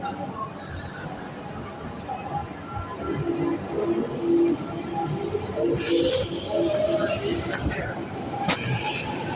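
A train passes nearby with a steady broadband rumble and rolling noise that swells around the middle, while people talk over it throughout.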